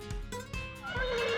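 Horse neighing in the fantasy visual novel game VenusBlood Frontier, a whinny rising over a steady game music bed, fairly close and moderately loud throughout the short stretch.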